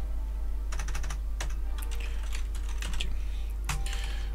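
Rapid clicking from a computer keyboard in bursts of keystrokes with short pauses, close and clear over a constant low electrical hum.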